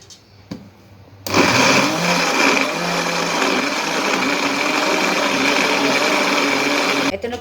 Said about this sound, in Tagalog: I-blend ko po siya ng unti-unti. Ito po, i-blend ko siya ng ganito.